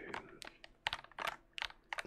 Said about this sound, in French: c'est le bruit du clavier